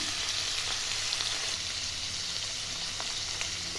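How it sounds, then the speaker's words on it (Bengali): Fish sizzling steadily in a hot pan with salt and turmeric, a dense, even frying hiss that holds unbroken and close throughout, with faint crackles scattered on top. "এখন মাছটা কড়া করে ভেজে নেব"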